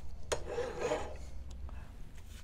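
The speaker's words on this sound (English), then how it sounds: "don't file this way, because especially with square wire, which has a slight lip on it, it's going to want to move that way." A metal file rasping across square wire clamped in a vise, a few short scraping strokes near the start followed by quieter scratches, close and fairly faint.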